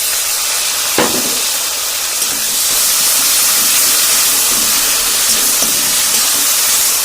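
Cumin and mustard seeds go into hot oil that already holds fried ginger and garlic, producing a sharp hit and then a loud, continuous sizzle and hiss that holds steady, with no voice.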